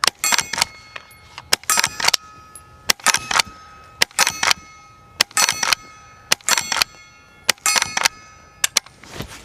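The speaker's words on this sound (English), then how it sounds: "That's it ringing some steel out there." A suppressed Henry lever-action rifle fires at distant steel targets, producing about a dozen sharp metallic clangs and rings spaced irregularly, each short with a bright ringing tail and quiet shots in between.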